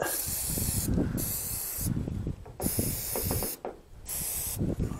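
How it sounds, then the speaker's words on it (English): An aerosol spray can hisses in several bursts as bolts and acorn nuts on a light bar install are sprayed down, close and fairly loud, with short pauses between sprays. "I'm going to shut the door so I can spray it down a little bit."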